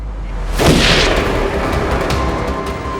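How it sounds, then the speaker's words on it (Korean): A loud boom of gunfire sets off a burst with a sharp attack, then a long rumbling tail trailing away, with faint later cracks in the background. "섬 여기저기서 총성이 들려오기 시작해."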